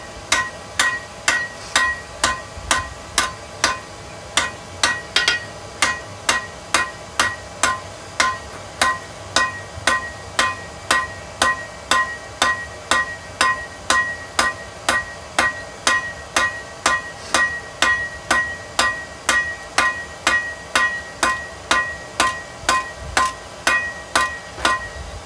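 A blacksmith's hammer strikes hot steel, forging the taper on a pair of tongs, in a fast, steady rhythm of sharp ringing blows that repeats without pause for the whole stretch, loud and close.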